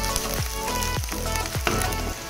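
Chopped chili and grated ginger fry until golden for Punjabi-style sarson ka saag, giving a loud, close, continuous sizzle with a few swooping stirring sweeps and no voices.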